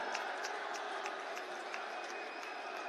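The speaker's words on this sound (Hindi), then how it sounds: "तालियों के साथ में सभी अपने स्थान पर खड़े होकर जोरदार स्वागत और अभिनंदन करें" A large rally crowd in Kotputli applauds to welcome Narendra Modi, a steady wash of clapping and cheering that holds at an even level for the whole stretch.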